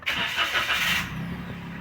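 A car with its check engine light on cranks over in a loud rough burst for about a second, then settles into a steady low idle hum.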